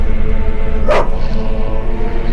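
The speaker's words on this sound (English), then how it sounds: "What are those dogs doing?" Dogs in the video game The Witcher give a single sharp bark over a steady low game ambience and music bed, a brief burst standing out near the middle.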